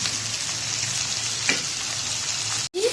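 Boiled, destringed cluster beans fry in a pan for a home vegetable dish, giving a steady close sizzle with a faint stir partway through and a sharp clatter near the end.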